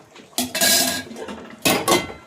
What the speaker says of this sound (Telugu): మూత పెట్టేద్దాం